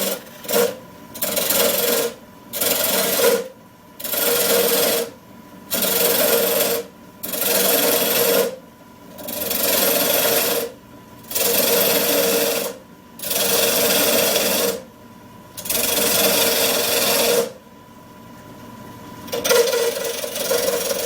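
Nova 1624-44 wood lathe spinning a Garapa Brazilian hardwood blank at about 1200 RPM, with repeated loud bursts of tool cutting and scraping, roughly a dozen evenly spaced passes separated by brief pauses, close and alone without talk.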